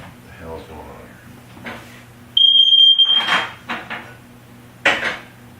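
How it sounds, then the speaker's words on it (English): A single sustained high-pitched alarm beep rings out for about a second amid kitchen clatter of dishes and utensils, with a voice talking nearby. "that was my carbon monoxide alarm going off"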